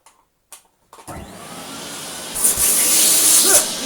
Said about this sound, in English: Look, you can use it as a vacuum cleaner.